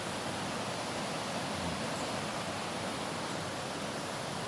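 Steady, dense rush of river water flowing deep in a mountain gorge, continuous and fairly loud with no other sounds.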